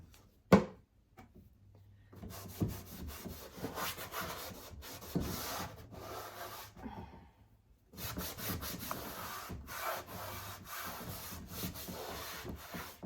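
Wax is wiped back off a wooden side table, heard as close, brisk rubbing and scuffing strokes that come in bursts with a few silent pauses between them.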